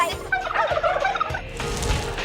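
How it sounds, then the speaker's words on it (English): A flock of farm turkeys raised for Christmas gobbling loudly and close, with overlapping rapid warbling calls in bursts across the whole stretch. "It's time to get the kids ready to say goodbye to the turkeys."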